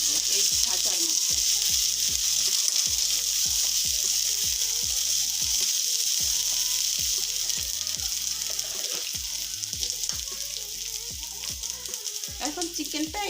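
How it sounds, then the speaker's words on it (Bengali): Chicken pieces sizzle loudly in a pan of frying onions and spices, a steady dense crackle throughout with repeated scraping stirs every second or so; no talk. "সব দিয়ে এখন চিকেনটা আমি দিয়ে দিব এই ভাজার মধ্যে।"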